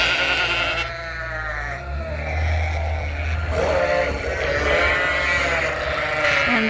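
A flock of ewes on a sheep farm bleats loudly and close by, with overlapping calls continuing steadily over a low background rumble.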